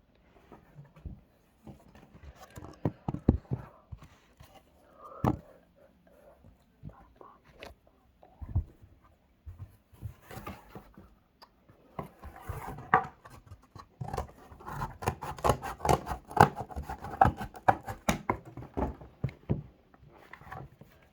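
Scissors snip and rustle through cardboard while a toy pistol is cut out, irregular close cuts and paper handling that grow denser and busier toward the end, with a faint voice now and then.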